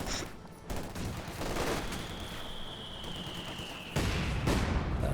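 Sustained machine gun fire from MG42s and Maxims in a Company of Heroes 2 match, a dense continuous rattle of overlapping bursts that swells louder near the end.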